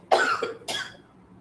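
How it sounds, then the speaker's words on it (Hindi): Two sharp coughs in quick succession, close to the microphone, the first louder than the second, then quiet. "खांसी हो रही है।"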